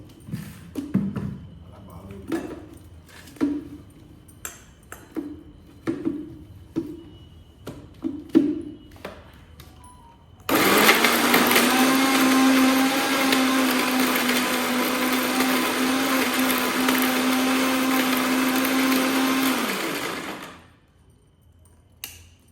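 A few scattered taps and clicks, then a home mixer grinder blending ripe red chilli chutney roars in loudly as a steady, even whir for about ten seconds before cutting off abruptly.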